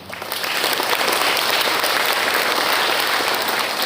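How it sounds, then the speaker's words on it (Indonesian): A school seminar audience breaks into applause that swells within half a second and continues as loud, dense, sustained clapping. "Berikan tepuk tangan penuh berkah untuk kita semuanya hari ini"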